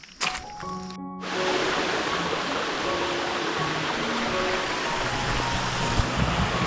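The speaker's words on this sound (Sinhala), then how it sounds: "හරිම ලස්සන වතුර පහරක් ගලාගෙන යනවා මෙතනින්" Water rushes steadily over rocks in a stream, a continuous close broadband roar with no voices, a few clicks and handling bumps at the start.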